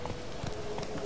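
Horse hooves clip-clop in The Witcher 3 video game, a steady trotting rhythm of several close hoof strikes over a continuous background bed.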